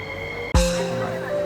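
A Singapore MRT train runs between stations near Raffles Place, heard from inside as a steady electric hum and tonal whine, broken by one sharp thud.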